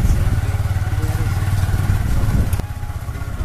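A motorcycle rides along a rough village road that is muddy after rain, its engine giving a close, steady low rumble with a slight thump partway through.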